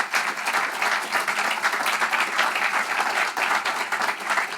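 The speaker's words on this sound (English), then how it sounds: "Please give them a round of applause." An audience at a live event in St. Louis applauds in a dense, steady burst of clapping that lasts the whole stretch, with no talk on top.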